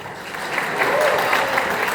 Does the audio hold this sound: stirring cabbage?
no